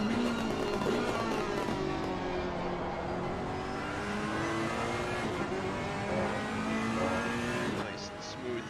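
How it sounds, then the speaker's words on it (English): Onboard engine of a Ferrari GT3 race car in Real Racing, a steady droning whine with rising and falling revs and occasional pops, heard under commentary. "Nice pops from the Ferrari there as we ride on board with Redmer."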